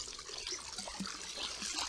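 Cold spring water trickles steadily in a mountain valley in Costa Rica, a continuous close, faint splashing and gurgling with no voices.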